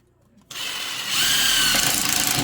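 A power drill countersinks screw holes in a wooden kit, starting abruptly after a quiet moment and whining steadily and close, rising slightly as the bit bites in.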